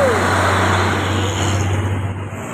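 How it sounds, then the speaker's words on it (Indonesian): A container trailer truck rolls past close by on a road, a loud, steady roar of engine and tyres holding for a couple of seconds and easing off slightly at the end. "Trailer kontainer."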